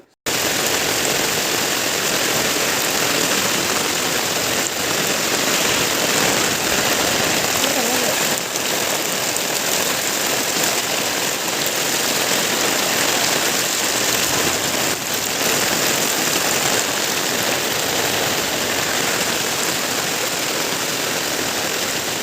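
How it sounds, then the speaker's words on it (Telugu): Heavy rain pours down in a steady, loud, unbroken hiss during a rainy-season flood, filling the whole stretch with no pauses and no voices. "రాత్రి నుంచి వర్షం పడుతుందన్నాను కదండి"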